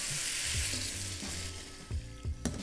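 Browning oxtail sizzling in a pan on an induction cooktop as beef stock is poured in, a steady hiss with a few low bubbling thumps and light clatter near the end.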